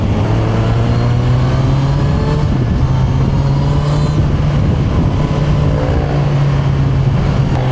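A Honda CB1000R naked motorcycle with stock exhaust runs at a steady, smooth engine note, a loud continuous hum with rushing wind or road noise and no speech.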